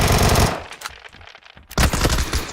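Loud, close gunfire in a video game, from a shotgun, comes as a heavy burst, fades into a short lull, then erupts again in another dense volley.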